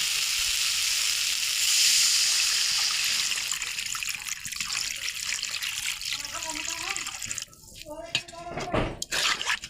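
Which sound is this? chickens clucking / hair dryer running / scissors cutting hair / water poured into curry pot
water poured into curry pot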